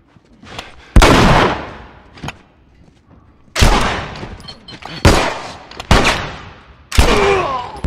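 Gunfire in The Last of Us, with five or six loud, close single shots spaced about a second apart, each with a ringing echo tail, plus a couple of fainter pops between them.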